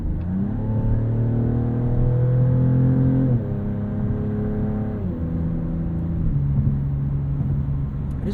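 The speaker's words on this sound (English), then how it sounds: "It is very loud, this car." A 2026 Dodge Charger Scat Pack 4-door revs loudly, its engine and exhaust rising in pitch through the gears with two clear shift drops, a continuous close, booming drone.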